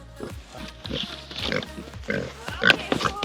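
Pigs being moved on a homestead give a run of short, low grunts and snuffles, close and irregular, with a brief squeal near the end.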